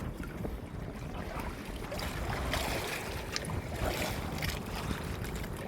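Sea waves wash and churn close by alongside a boat, a dense continuous roar with wind buffeting the microphone, swelling slightly louder midway and staying unbroken throughout.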